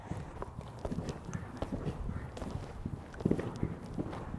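Horse hooves clip-clop over single ground poles as the horse comes off a corner during a riding masterclass, a steady moderately close rhythm of light thuds with faint background noise.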